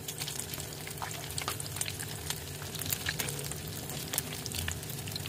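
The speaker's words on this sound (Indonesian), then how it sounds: "kemudian digoreng tahunya ini sampai matang, sampai kuning keemasan" Tofu meatballs deep-fry in hot oil in a wok, giving a continuous soft sizzle with scattered crackles and pops. The frying is fairly quiet and heard alone, with no voices.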